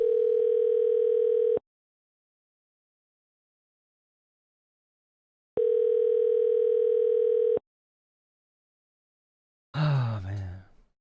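Telephone dial tone ringing out on a call, two long steady tones separated by silence, followed by a brief sigh.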